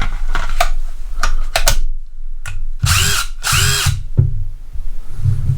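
A Craftsman V20 brushless cordless impact driver, variable speed, revs in short loud bursts close up, with clicks and handling noise between the trigger pulls.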